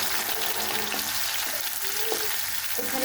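Chopped onion hits hot oil already fragrant with bay leaves and whole garam masala, giving a loud, steady, close sizzle that fills the pan without pause, with faint stirring clinks underneath.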